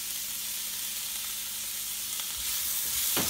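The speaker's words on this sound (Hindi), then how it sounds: "बस वेजिटेबल्स जो है मैंने सॉटे कर ली है," Vegetables sauté in a pan for a spicy spaghetti dish, a soft, even sizzle close by with faint stirring, swelling to a louder fry in the last second; no one speaks.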